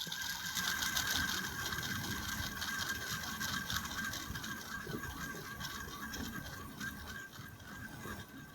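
The in-house star-shaped rotor of a Zenith El Primero chronograph spins with a rapid, continuous mechanical whirring and ratcheting buzz, close up and steady throughout.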